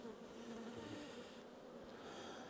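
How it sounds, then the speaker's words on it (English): Honey bees drone steadily as they are shaken off a honey-filled comb from a strong hive, a soft, close, continuous buzzing with no voices. "Shake those bees off and put that back in there."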